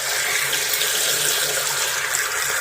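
Water pours steadily from a pipe into an olive brining tank that is nearly full, producing a loud, constant rushing splash with no break and no voices.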